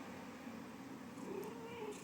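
A domestic cat, an eleven-year-old pet indoors after a heatwave, gives a soft, brief meow close by over a quiet room background.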